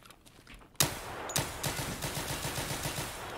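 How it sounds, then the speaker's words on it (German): A full magazine of automatic gunfire in the shooter game Escape from Tarkov on the Factory map: a sudden loud opening shot, then a rapid, evenly spaced burst of rounds fired continuously. "Er knallt ein ganzes Magazin raus"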